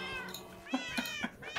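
Several Minecraft cats meow in a quick run of short, close, fairly loud calls, four or five overlapping cries spaced evenly over a low game background.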